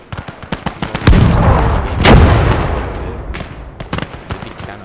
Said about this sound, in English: the big cannon